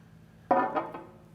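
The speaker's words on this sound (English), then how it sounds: "So let's go ahead and pour it and see what I think this time around." Thomas H. Handy Sazerac rye whiskey poured from its bottle: a single short burst of glugging liquid, close and fairly quiet, lasting under a second with a couple of gurgling pulses before fading to near silence.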